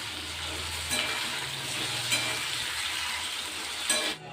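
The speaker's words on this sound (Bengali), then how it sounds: "কুমড়োটার জন্য আলুটা ভালো করে আগে ফার্স্টে ভেজে নেবো" Potatoes fry in a pan, a steady sizzle with intermittent stirring clatters of the spatula, close and continuous without speech.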